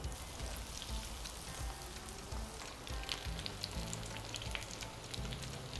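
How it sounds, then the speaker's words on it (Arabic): Crispy fish balls fry in oil, producing a soft, continuous crackling sizzle with scattered pops, fairly quiet and steady throughout, with no voices. "وهننزل بالزيت هياخد بس تشميعه ولون بس ذهبي"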